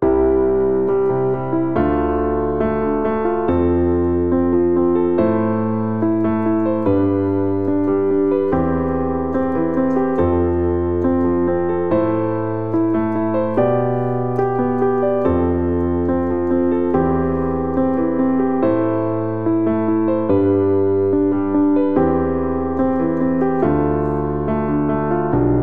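Piano chords repeat in a steady rhythmic pattern, changing harmony at regular intervals, played alone at an even, moderate loudness.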